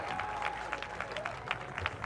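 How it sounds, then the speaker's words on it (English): An audience applauds at the Rogue Invitational strength competition during the anvil grip record event, with steady close clapping. "Big round of applause for Eric Dawson."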